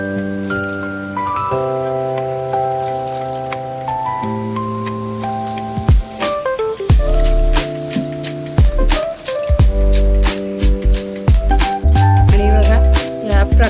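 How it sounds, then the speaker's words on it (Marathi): Mud crabs are rubbed and rinsed in water, giving wet squishing, splashing and dripping sounds that grow louder and choppier in the second half, mixed with a steady tonal background hum. "आणि 2-3 पाण्यात त्या धुवून घ्यायच्या।"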